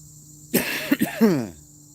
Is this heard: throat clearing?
yes